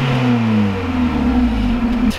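A Seat Ibiza Sport with its original exhaust, before a universal back box is fitted, hums loudly and close by, its engine note sliding slowly down and then holding steady before cutting off abruptly.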